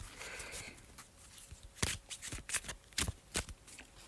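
A deck of cards is shuffled and riffled in several quick bursts, close and crisp, with brief pauses between.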